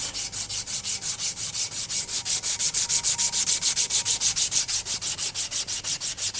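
Rhythmic back-and-forth sanding of a wooden knife handle with a strip of sandpaper, a steady scratchy rubbing repeated quickly and evenly, close up and alone.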